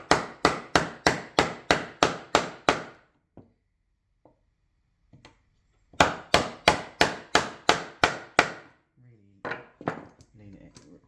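A chisel is struck to clean out wood for a bow tie inlay, in two close bursts of about eight quick, evenly spaced sharp knocks separated by a quiet pause, with a few softer taps afterward.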